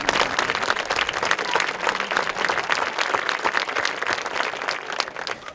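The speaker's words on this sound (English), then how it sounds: "Let's give them a round of applause." A school athletic awards audience applauds the 2024 senior plaque award winners, producing a dense, steady wash of many hands clapping that holds at an even level throughout, with no voices standing out.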